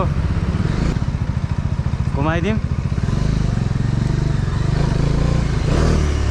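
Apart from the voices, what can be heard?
Bajaj Dominar 400 motorcycle riding and revving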